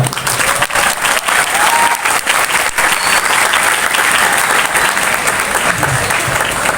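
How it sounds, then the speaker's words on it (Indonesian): A school audience at a Maulid religious lecture applauds, a loud, dense and steady wash of clapping that carries through the whole stretch with no speech over it. "Tepuk tangan coba."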